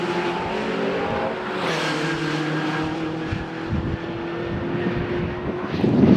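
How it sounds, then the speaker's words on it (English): A TVR Tuscan race car in a Dunlop Tuscan Challenge race at Oulton Park drones along the track with a steady engine tone that grows louder as it approaches, ending in a rising rush near the close. "Now here coming towards us is a very menacing looking car."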